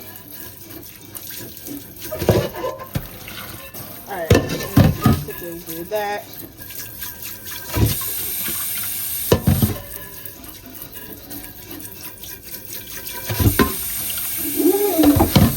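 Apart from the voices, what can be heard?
water running from kitchen faucet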